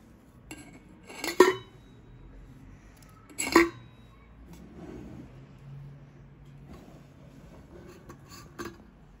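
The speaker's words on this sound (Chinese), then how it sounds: "将保温杯横放，把鸡蛋缓缓的滑进去" Eggs are slid into a thermos cup lying on its side, making two distinct hard clinks and knocks a couple of seconds apart, followed by softer scattered taps and light handling noises in a quiet room.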